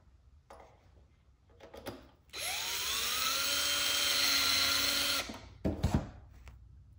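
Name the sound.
cordless drill driving screws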